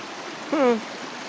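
A strong current rushes along a river in Tanay, a steady wash of flowing water heard close by throughout, with a brief whistle-like call rising over it partway through.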